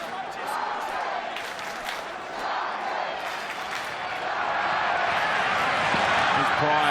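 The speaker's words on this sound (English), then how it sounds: "They're making plenty of noise. This Cronulla crowd." A Cronulla Sharks rugby league crowd roars at an NRL match, a broad, steady cheer that builds louder toward the end, with a commentator talking over it.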